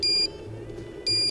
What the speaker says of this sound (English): It automatically shuts off when steaming is complete, and it'll let you know with a flashing light and a beeping alert.